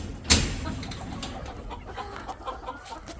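Roosters cluck faintly in the background during egg collecting, with one sharp knock near the start and scattered bird sounds throughout.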